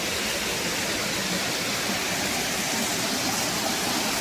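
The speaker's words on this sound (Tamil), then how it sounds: "மேலே அப்படியே தண்ணி ஒரு ஃப்ளோ தான் அப்படியே வந்துகிட்டே இருக்குது" Water pours steadily down Kailasa Kona waterfall in Andhra Pradesh, a loud, continuous broadband rush with no voices or other sounds.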